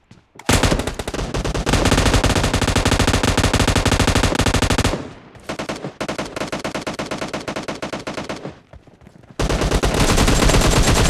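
Team deathmatch video game gunfire: loud, near bursts of rapid automatic fire, long sustained volleys broken by brief pauses and scattered single shots, with no talk.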